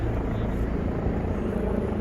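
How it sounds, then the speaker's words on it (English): Several helicopters flying overhead on a sightseeing day in Japan, a steady loud low rumble and rotor drone that fills the whole stretch without a break. "There's a bunch of helicopters out here today."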